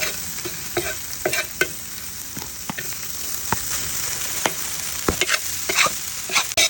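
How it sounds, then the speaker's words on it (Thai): Rice and shrimp paste are stir-fried in a pan for Thai khao kluk kapi, with a steady sizzle throughout. Sharp scrapes and taps of a spatula on the pan come at irregular intervals, and nobody speaks. "เราผัดกะปิให้หอมก่อนนะก็ใส่ข้าลงไป"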